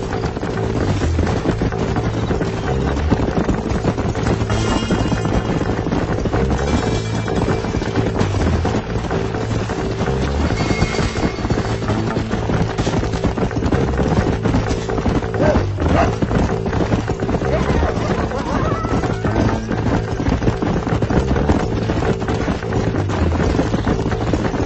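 Horses trot in Red Dead Redemption, a steady rhythmic clip-clop of hooves that continues throughout, fairly loud and constant, with no talking.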